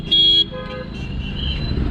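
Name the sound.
car horn honking on the road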